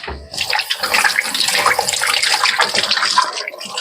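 Tap water gushing steadily into a kitchen sink as hands are washed while making paneer malai kofta, a close, loud, continuous splashing with no talk.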